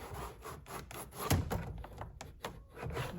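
Vinyl dashboard of a 1985 Chevrolet Caprice Classic, cracked, being lifted and slid forward over the speakers, giving close scraping and rubbing sounds with a few knocks and bumps in an uneven rhythm.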